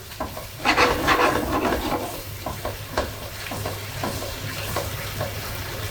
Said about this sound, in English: Once the rawness of that's gone and the onions and garlic have been sort of sweated off, time to add that spice. Give that a good stir through.